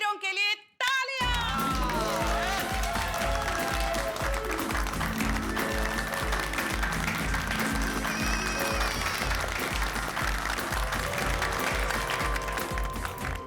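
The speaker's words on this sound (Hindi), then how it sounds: "मिशन काला कौवा में हिस्सा लेने वाले सभी वीरों के लिए तालियां" Applause for the Mission Kala Kauwa team at a Gokuldham society celebration; steady clapping runs through the whole stretch under loud music with a deep bass line, after a brief drop near the start.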